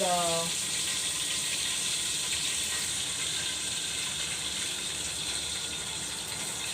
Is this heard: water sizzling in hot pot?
yes